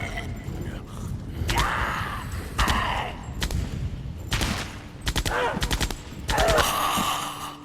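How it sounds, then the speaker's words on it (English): M60 machine gun fire in a video game, reused from the Halo 1 turret gun sound, comes in repeated short loud bursts of rapid shots separated by brief gaps. "The M60 is particularly bad. I recognize this immediately as that turret gun sound effect from Halo 1."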